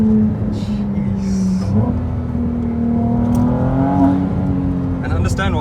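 A Ferrari 296 GTB's twin-turbo V6 revs on a drive in Cape Town, heard onboard: a clear engine note climbing steadily in pitch, with a brief dip and turbo whoosh, ending in a high, screaming rev under faint cabin noise.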